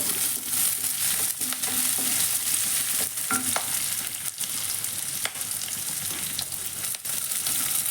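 Diced onion and half a capsicum fry for chilli chicken in a hot pan, a continuous loud sizzle with occasional stirring clinks, close up and without speech.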